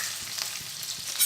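Ginger, garlic and green chili fry in hot oil in a pan, a steady close sizzle with faint stirring knocks underneath and no talk.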